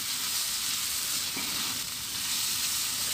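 Marinated shrimp frying in a pan for a glass noodle dish, a continuous bright sizzle that holds close and steady, with no voices.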